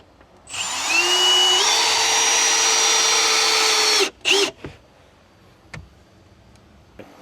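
A power drill drives wide head GRK fasteners while building a Silverado seat delete, whirring loud and steady for about three and a half seconds, then giving a couple of short bursts before a few light knocks.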